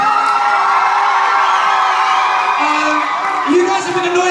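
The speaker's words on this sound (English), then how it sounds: "You guys have been the noisiest crowd so far" A festival crowd at an outdoor park party at Flamingo Land cheers and whoops loudly and continuously, with scattered shouts and yells rising above the steady roar.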